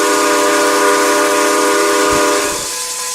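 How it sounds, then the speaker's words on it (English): A steam whistle from a model NYC J3A Dreyfuss Hudson steam locomotive, the 20th Century Limited, sounds as a loud, sustained multi-tone chord with no talk, then tapers near the end over a low rumble. "we'll hear the beautiful whistle"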